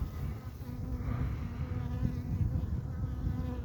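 Honeybees buzz steadily inside combined nucleus hives during a winter cleansing flight, a dense, close, continuous hum with no voices.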